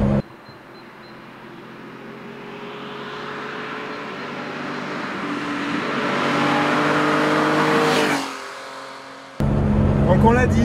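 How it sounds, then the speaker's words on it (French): Porsche engine while driving, rising in pitch and loudness as it revs through a gear, then a brief drop at a shift before pulling hard again, loud and close. "Moi je trouve ça génial parce que c'est un moteur qui chante"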